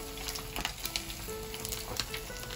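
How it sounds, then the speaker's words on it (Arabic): Pieces of squid sizzle steadily in hot oil as they fry into crunchy Korean-style rings, a dense continuous crackle with sharper pops scattered through it and no voices. "غادي نخليهم دابا تيتحمرو مزيان"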